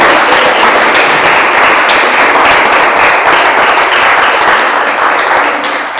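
Church congregation applauding, a dense, continuous wash of many hands clapping that holds steady for several seconds before easing slightly at the end, with no voices.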